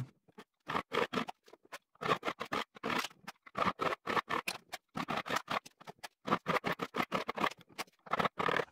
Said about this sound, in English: I'm actually going to chip the rest of the aluminum out of there with that chisel I use for turning